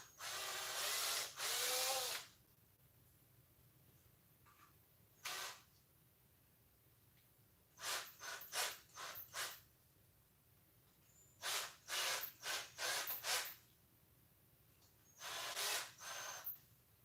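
A power drill bores a hole out to 9 millimeters in short bursts, several separate whirring runs of a second or two with quiet pauses between, fairly faint and with no voice over them.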